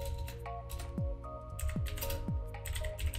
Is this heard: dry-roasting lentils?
no